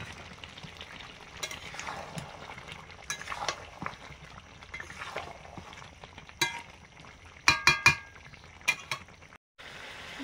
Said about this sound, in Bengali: মাংসটা কষানো চলছে, অনেক সময় ধরে কষানো হলো।